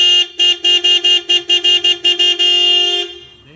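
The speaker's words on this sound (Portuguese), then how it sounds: "Acabamos de instalar aqui uma Columbia, uma par de uma buzina." A loud two-tone aftermarket dual horn on a Peugeot 208 honks in a quick series of short blasts, then holds one long blast that fades away.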